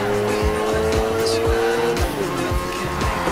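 A car drifts in Need for Speed Heat, its engine revving hard and tires squealing in long, repeated skids, loud and close throughout.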